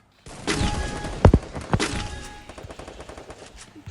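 Gunfire in the Free Fire video game: a burst of rapid automatic shots with a couple of sharp, louder cracks, then quieter shots trailing off over a few seconds.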